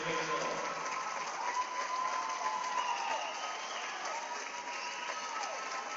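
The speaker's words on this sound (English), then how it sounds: "Faisal with 2 points gets a nice hand from the crowd" A basketball crowd at a high school girls' game applauds a player leaving the court, a loud sustained wash of clapping and cheering that fills the gym.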